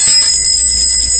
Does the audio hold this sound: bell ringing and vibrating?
yes